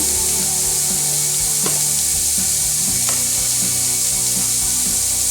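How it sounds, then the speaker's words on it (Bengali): Potol (pointed gourd) frying in a pan with cumin and coriander powder, giving a steady, close sizzle with occasional scraping stir strokes and no talking. "পটল দিলাম, এখন একটু জিরে আর ধনে গুঁড়ো দিয়ে দিলাম।"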